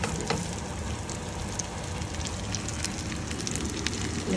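Cashews frying in ghee in a small pan give a steady, dense sizzle with crackling pops, close up and continuous, with no talking.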